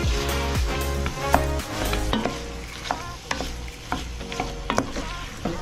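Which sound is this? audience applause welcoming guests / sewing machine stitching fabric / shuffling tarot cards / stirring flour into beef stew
stirring flour into beef stew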